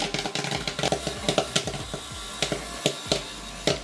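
Popcorn kernels bursting in a popcorn kettle, a dense, irregular run of sharp pops and snaps heard up close over a steady machine hum, loud and busy without speech.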